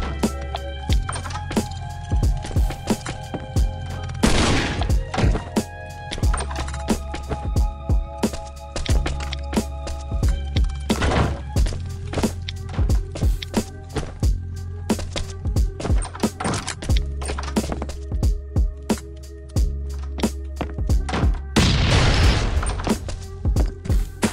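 Explosions from bombing a base in the video game Last Island of Survival, with repeated sharp booms and thumps scattered across a steady low game hum, some bursts clustered into rapid volleys.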